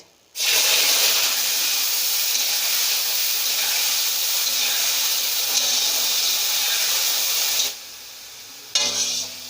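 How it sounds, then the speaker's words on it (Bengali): Onion paste fries in hot oil with cinnamon, cracked cardamom and bay leaves, a loud, steady, close sizzling hiss that cuts out near the end and then briefly returns. "একটু আমি নেড়ে চেড়ে ভেজে নেব পেঁয়াজটা"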